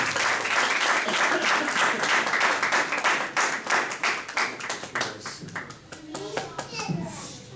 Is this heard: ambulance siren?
no